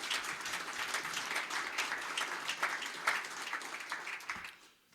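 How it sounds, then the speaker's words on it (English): Audience applauds warmly at a farewell address by the Buffalo mayor, a dense, steady clapping that holds for several seconds before tapering off near the end. "And you can clap on that again."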